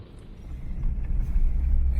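A 4WD Toyota Land Cruiser 105 driving along the Canning Stock Route, with a steady low engine and road rumble that swells slightly, captured from inside the vehicle.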